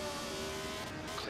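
A Lotus 72 Formula 1 race car at Bridgehampton during 1975 Long Island Speed Week, a steady engine drone at moderate distance, sustained and even for a brief stretch with no voices over it.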